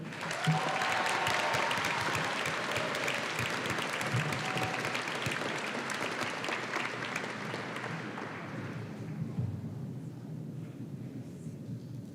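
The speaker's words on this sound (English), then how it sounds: "Earning salutatorian honors, please give a round of applause to Samantha Haley." Loud, sustained applause from a large crowd at a high school graduation ceremony, steady clapping that fills most of the clip before thinning out near the end.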